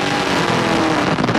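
Race cars, including a Chevy stock car, accelerate on a racetrack as the field lines up single file, a loud, dense engine roar that rises and blends into a continuous howl.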